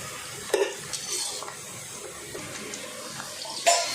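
Mushrooms fry in a pan for a pickle, a soft sizzle under scattered stirring scrapes, with a sharper clatter of the utensil at the start and end.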